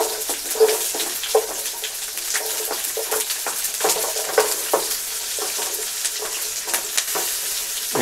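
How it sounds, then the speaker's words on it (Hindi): Chopped green chilies and onion frying in a pan, a constant crackling sizzle close up, punctuated by repeated scraping stirs and light clinks of a spoon. "इनको हम 1 मिनट फ्राई कर लेंगे"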